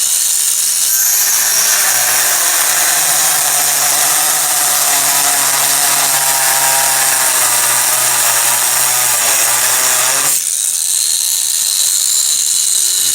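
A Stonecraft angle rotary engraver spins a 45 mm disc through a cut with a loud, close, steady high whine. It runs for about ten seconds, then abruptly stops, leaving only faint background noise.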